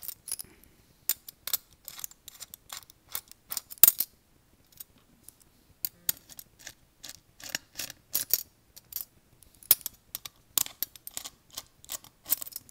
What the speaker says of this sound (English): Now you just unscrew all the four screws around it.